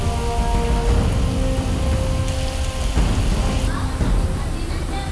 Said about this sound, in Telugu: ఈదరగాలి బయ్య బయ్య వాన